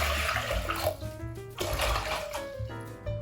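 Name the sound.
water being poured into a pan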